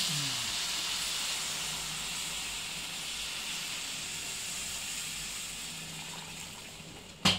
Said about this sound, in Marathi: आता काय पाणी टाकते.